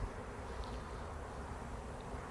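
A faint, steady buzz of a swarm of bees in a bush humming together, a continuous drone heard from a little distance with no talking.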